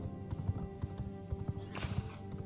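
A horse gallops in the video game V Rising, its hooves beating out a quick, steady clip-clop rhythm that stays close and even throughout.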